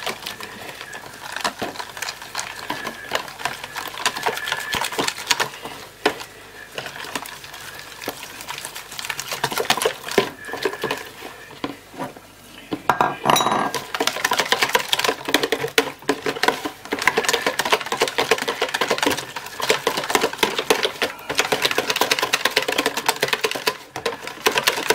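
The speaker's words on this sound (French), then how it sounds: "Je vais encore y ajouter mon sucre et je vais mélanger tout ça au fouet." Flour and sugar whisked together in a bowl for light bread dough, a rapid, continuous clicking and scraping of the whisk, close and fairly loud, pausing briefly midway before resuming at the same brisk pace.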